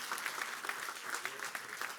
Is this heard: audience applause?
yes